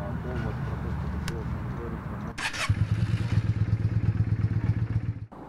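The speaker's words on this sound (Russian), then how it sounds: "Давайте я заведу мотоцикл," A motorcycle is started: after a short cranking clatter the engine catches and settles into a loud, close, rapidly pulsing idle with slight revving, then cuts off abruptly; faint background noise before the start.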